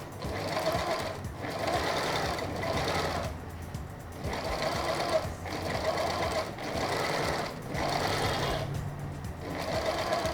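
A sewing machine runs gather stitches along a fabric sleeve head, its steady mechanical chatter coming in several even bursts separated by short pauses, close and moderately loud with no voices.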